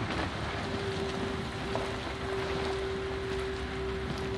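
Steady rain in the horror video game Outlast, a dense, even hiss that holds constant throughout with no breaks, joined by a faint, unchanging low tone underneath.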